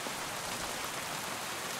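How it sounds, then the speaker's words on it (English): Steady rain in Kingdom Come: Deliverance II on PS5 pours down in a constant broadband hiss, with no pauses and no voices. "Ah, rain. Just what we needed."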